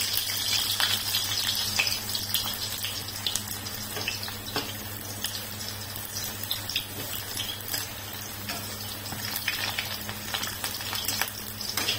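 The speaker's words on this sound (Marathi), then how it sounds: "तेल तापले तर भेंडी टाकून घ्यायची. असे थोडं टाकून घ्यायचे, चांगलं तळून घ्यायची भेंडी." Sliced okra (bhindi) frying in hot oil in a pan, a steady dense sizzle with continuous crackling and occasional spatters, close and fairly loud with no talking.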